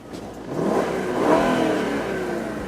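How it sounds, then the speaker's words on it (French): Subdued V8 engine revving in a Mercedes S500L, heavily silenced, a soft muffled rise and fall in pitch at a steady moderate level, heard alone. "ce V8 a été rendu muet par, je pense, une quinzaine de silencieux"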